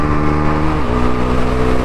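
Bajaj Pulsar NS400Z motorcycle engine at high revs, a loud, steady, close drone whose pitch dips slightly partway through, with no voices.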